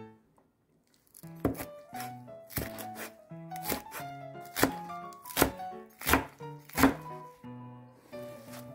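Fresh salad herbs being chopped with a knife on a board for a quick sunflower-style salad, a steady series of close, crisp thunks with no talk.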